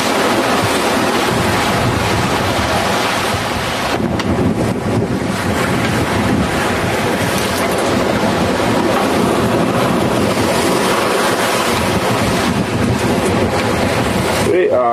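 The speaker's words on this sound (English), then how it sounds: "here's to give you an idea of what it was like sailing downwind" Sailboat running downwind across the open Atlantic Ocean, with steady loud wind buffeting the microphone and continuous rushing waves and hull wash throughout, no pauses.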